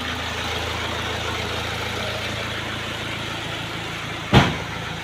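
A 2023 Toyota Vios automatic idles with a steady, even low hum and no voices. Near the end a single brief thump briefly rises above the engine.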